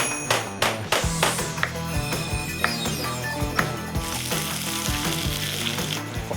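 Cucumbers and nuts stir-frying in a pan, with a soft sizzle under clattering utensil scrapes and knocks against the pan, close and fairly quiet.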